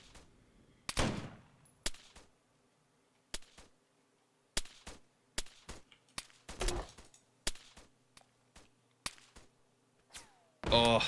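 Grenade launcher fire in ARMA 3 on PC, with a series of sharp, loud reports and impacts spread irregularly across the scene, some isolated and some in quick clusters, the last blast heavier and sustained.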